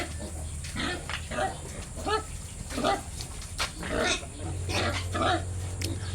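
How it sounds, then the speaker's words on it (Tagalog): Soft, repeated grunts of native piglets snuffling close by on a pig farm, irregular and overlapping, with a low hum in the background. "Yung mga biik, oh."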